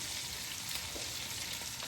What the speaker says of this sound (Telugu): ఇప్పుడు ఆనియన్ కూడా దీనిలో మంచిగా ఫ్రై కావాలి.